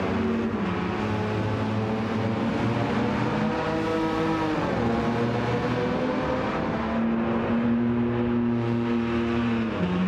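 Race cars in Gran Turismo 7, including a Porsche 906, several engines droning and revving together in a field, with rising and falling pitched engine tones under a dense, steady roar.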